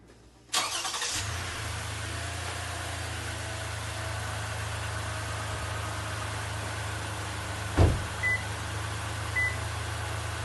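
A van engine cranks and catches, then settles into a steady low idle, followed by a thump and two short electronic beeps.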